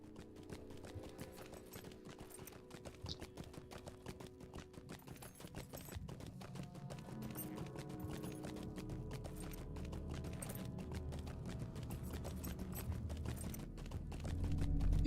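In The Lord of the Rings Online, a stable goat mount's hooves clip-clop in a steady, rapid rhythm while riding, faint but continuous and building slightly louder toward the end, with no talking.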